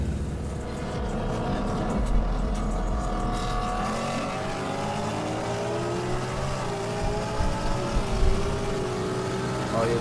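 Street racing cars accelerating in a three-way race in Texas, a steady engine roar with rising revs and pitch sweeps as they pull away, continuous and fairly loud, with people talking over it.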